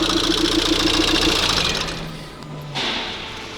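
A Volkswagen Crafter van's diesel engine runs with a steady, close rumble and clatter, then drops in level as the van pulls away, with a brief swell near the end as it moves off.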